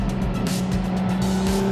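A 2014 Ferrari LaFerrari with a twelve-cylinder engine, driving with a steady loud engine drone and tire noise that sound close and continuous, with no talk.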